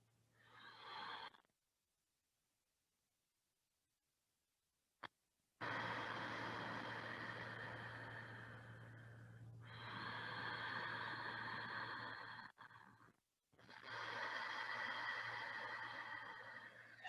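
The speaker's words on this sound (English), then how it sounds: "there's still that little closure at the back of the throat, just narrowing the passageway so we get that little bit of a sound for the breath" Soft Ujjayi breathing through a narrowed throat with lips closed makes long, steady, hissing ocean-like breaths, each lasting several seconds with brief silent gaps, quiet and close over a faint low hum.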